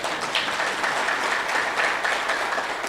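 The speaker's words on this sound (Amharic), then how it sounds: "አጨብጭቡ ለራሳችሁ" Seminar audience clapping for themselves in a brief, even burst of dense applause, moderately loud and steady throughout.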